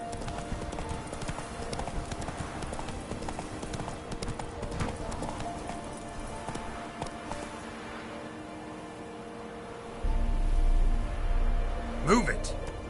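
The horse Roach gallops in The Witcher 3: Wild Hunt, its hooves drumming in a steady clip-clop rhythm that stays close and fairly loud throughout, with a voice speaking briefly over it.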